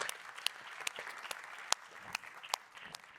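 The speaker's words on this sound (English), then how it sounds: "let's give the individuals here all a round of applause and welcome them" A small audience claps steadily for a few seconds, with scattered sharper claps standing out from the patter.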